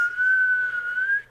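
A person whistles a single sustained, slightly wavering note, close and clear, lasting just over a second with nothing else around it.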